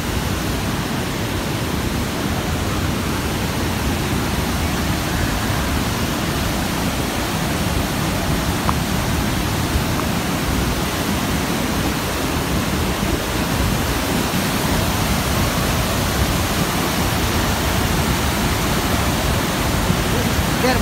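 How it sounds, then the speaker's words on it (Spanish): A waterfall beside a bridge outdoors, a steady, loud, dense roar of rushing water that stays unbroken throughout with no pauses. "Vamos a enseñarle la cascada, la cascada"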